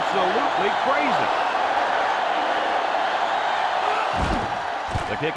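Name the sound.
stadium crowd cheering in a football video game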